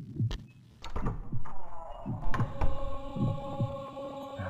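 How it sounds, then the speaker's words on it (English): A steady, paired heartbeat thumps low and close in the video game Dementium: The Ward, repeating about every second beneath clanking game noises and tones. "I don't need to fucking hear a heartbeat"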